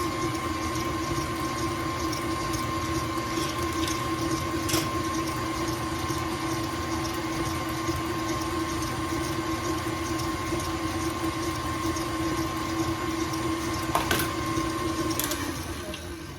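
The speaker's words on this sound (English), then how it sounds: "I'm just going to turn the mixer on low and get that all mixed up" An electric mixer running on low through banana cake batter made from a yellow cake mix with soda and spices, giving a steady, even motor whir with a faint tonal hum that carries on unbroken for the whole stretch.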